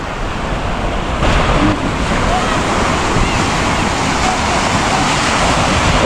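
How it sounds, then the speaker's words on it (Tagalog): Loud, steady roar of heavy surf breaking continuously, with wind noise buffeting the microphone throughout. "malalaki ang alon"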